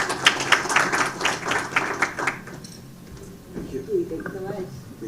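Brief audience applause at a funding event as a speaker walks to the stage, a burst of many claps that fades out after a couple of seconds, followed by a voice and quieter room sounds.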